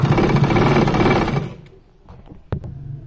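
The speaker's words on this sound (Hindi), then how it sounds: "स्टिच करना है ताकि लैस में कहीं से भी छोटा बड़ा फर्क ना आए" A sewing machine stitches lace onto a kurti sleeve, running loud and close in a dense whirring burst for about a second and a half before stopping, followed by a few soft fabric handling clicks.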